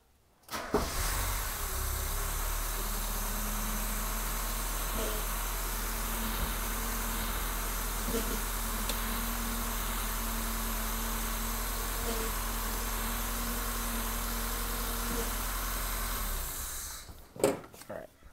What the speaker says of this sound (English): I don't want the engine to warm up too hot.